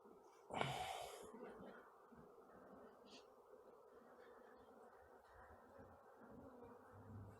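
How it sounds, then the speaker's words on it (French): Agitated honeybees buzz in a low, steady drone close by at an opened production hive, with a brief louder burst near the start; no one speaks. "Ça reste quand même des abeilles un tout petit peu agitées."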